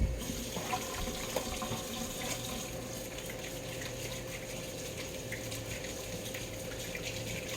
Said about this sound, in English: Sorry, I had to wash my hands.